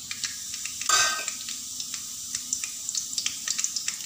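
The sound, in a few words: lentils and mustard seeds tempering in hot oil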